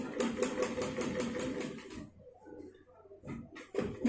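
A sewing machine stitches fabric for a two-piece organiser kit in a rapid, even mechanical clatter for about two seconds, then stops, leaving quiet handling noises before a brief burst of running resumes near the end.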